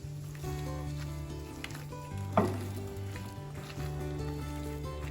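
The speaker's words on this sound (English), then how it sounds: "now finally we are adding some beer in it" Beer hitting frying chili chicken in a hot pan, a sharp burst of sizzle midway over a steady background hum and stirring scrapes, close and moderately loud.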